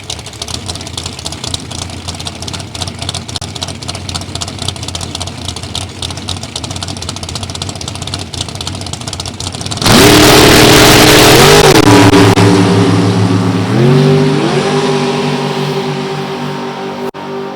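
Super Comp drag race cars at an NHRA Division 3 event at Gateway Motorsports Park: a steady engine drone gives way to a loud, close roar as the cars launch down both lanes, their pitch climbing through gear changes, with no talk.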